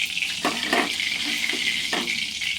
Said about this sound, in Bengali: শুকনো লঙ্কা দিয়ে দিলাম,